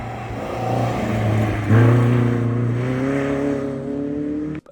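A 1972 Alfa Romeo 105 with its two-litre engine running, a loud close steady drone that swells in a brief rev, then settles into an even, rising hum before cutting off abruptly.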